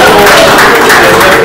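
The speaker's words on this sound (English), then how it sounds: "Clap your hand." An audience at a basketball coaching presentation claps loudly. It makes a dense, continuous burst of hands close by, filling the whole short moment.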